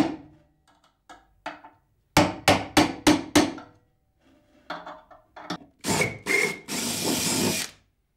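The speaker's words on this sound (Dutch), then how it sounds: "Gaan we opboren." A power drill with a 10 mm bit bores out a tight hole in short, loud bursts, revving and stopping repeatedly, ending in a longer continuous grind. No one speaks.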